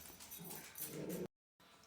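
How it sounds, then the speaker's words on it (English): Dogs barking and whimpering excitedly at a propane delivery outside, a faint, continuous agitated yipping that cuts out briefly before resuming. "we're getting a propane delivery and the dogs are going nuts"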